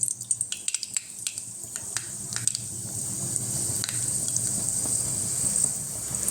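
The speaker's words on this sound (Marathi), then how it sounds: "मी आता त्याच्यात मोहरी घालते" Mustard seeds crackle in hot oil in a kadhai, sharp pops and snaps scattered at first, then settling into a steady sizzle; no one talks.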